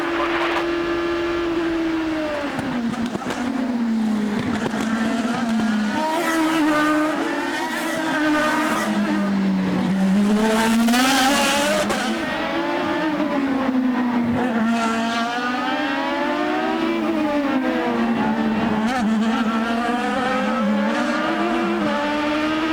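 IndyCar race cars at the Long Beach Grand Prix street circuit roar by loudly and continuously, engines rising and falling through gear changes as several cars pass close together, with no talk.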